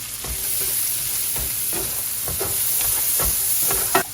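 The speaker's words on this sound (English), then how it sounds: "We're just gonna let this saute for a few minutes" Onions sizzle and crackle steadily in a hot pot, with periodic scraping stirs giving a loose rhythmic pattern throughout.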